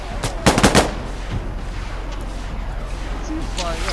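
Rocket explosions and gunfire in the video game Insurgency: Sandstorm: several sharp, loud blasts crack in quick succession early on, followed by scattered distant pops and a lingering rumble, with faint voices underneath.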